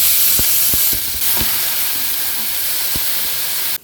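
Onion dropped into hot oil for stuffed brinjal, heard as a loud, close, steady sizzling hiss with several sharp taps of a utensil early on, cutting off abruptly near the end.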